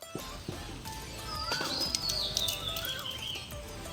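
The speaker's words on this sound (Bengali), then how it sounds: "মানে এত সুন্দর সুন্দর পাখির ডাক" Birds call and chirp under trees in a village, with bright whistled notes and fast chirps that build in the middle and stay moderately near, over faint background clatter from outdoor cooking and no clear talk.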